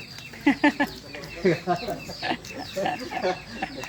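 Hens and roosters cluck in short repeated bursts nearby, with people speaking at the same time.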